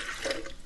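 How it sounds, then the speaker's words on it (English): Water pours into a blender jar holding seeds for a green smoothie, a brief steady splashing rush at close range with no talking. "I'm just going to add the water"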